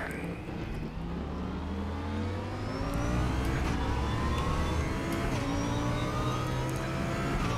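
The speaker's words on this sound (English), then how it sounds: "Car at the rear." Race car engine in a racing video game roars loudly as another car comes up from behind and passes, with pitch shifts and steady revving, and no talking.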